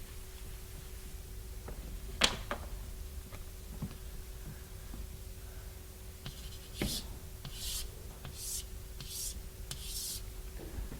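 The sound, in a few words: drawing a picture on a board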